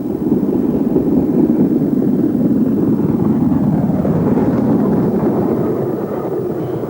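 LMS Black 5 steam locomotive 44932 of the Midland Trust, running near its Derbyshire home, gives a steady, loud low rumble of working steam and rolling train that holds throughout, easing slightly toward the end.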